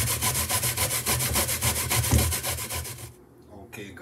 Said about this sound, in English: This is my grater, and I am going to grate it like this.